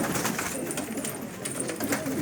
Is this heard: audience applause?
no